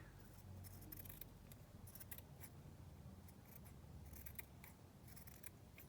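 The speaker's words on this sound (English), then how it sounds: "I'm just going to trim that down a bit more." Scissors snip through a scrap of lace paper at a crafting desk, a series of quiet, crisp cuts in irregular rhythm over a soft room hiss.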